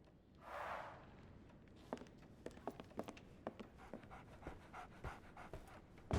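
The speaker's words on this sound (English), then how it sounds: "So, Barnes has a dog now." A dog in the video game Sherlock Holmes The Awakened pants with a quick breathy burst, followed by soft scattered taps and light clicks that recur at an irregular pace, all quiet and close.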